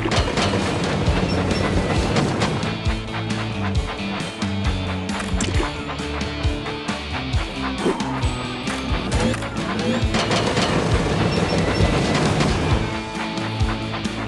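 A toy train in the Thomas & Friends video game clatters along its track with a rhythmic clickety-clack, the rolling noise swelling and easing in loudness.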